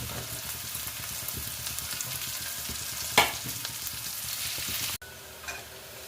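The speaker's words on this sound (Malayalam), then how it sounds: "വെളുത്തുള്ളി ഒക്കെ ഇഞ്ചി എല്ലാം നല്ല മുരിഞ്ഞ് വന്നിട്ടുണ്ട്" Garlic, ginger and green chillies frying in a pan for a tuna pickle, giving a steady close sizzle with light stirring scrapes and one sharp clink, then a quieter tail of frying.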